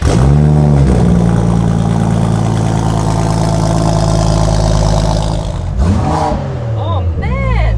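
A 2022 concept car's engine revs hard through its exhaust at close range, giving a loud, sustained roar that rises and falls. Excited voices shout and exclaim as the revs drop away near the end.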